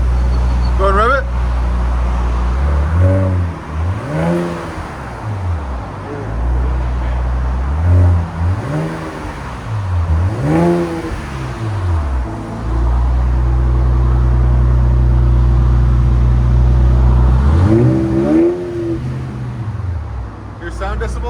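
A 2026 RAM 1500 with a 3.0L Hurricane inline-six and modified exhaust rumbles at a steady idle, then is revved in about five sharp, loud blips that rise and fall back, close to the tailpipe.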